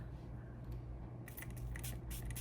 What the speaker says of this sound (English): So I'm gonna spray some setting spray on here.